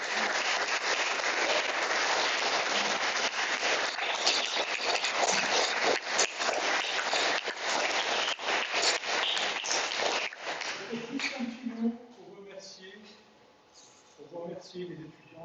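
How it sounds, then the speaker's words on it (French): Dense applause from an audience at a university end-of-studies project defense session, loud and sustained for about ten seconds, then thinning out as voices begin talking over the last few claps. "On peut vous applaudir."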